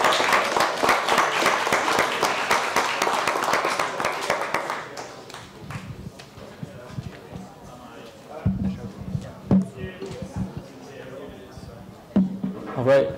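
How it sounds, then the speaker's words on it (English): An audience at a Stanford event applauding a team, with dense clapping for about five seconds that then thins out to scattered claps and handling noises, while people talk quietly. "If we could have a round of applause for Team Rosie."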